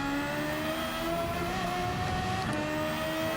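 A car engine in Gran Turismo 7 revs in a steady, sustained high drone, loud and close with tonal harmonics holding throughout and no speech.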